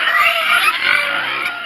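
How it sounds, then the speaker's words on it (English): Farm pigs on a muddy homestead squeal and grunt continuously and loudly as they wait to be fed, a close, harsh, unbroken chorus of noise. "these pigs are very vocal"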